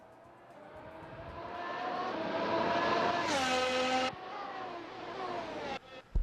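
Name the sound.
race cars starting a race in a sim racing video game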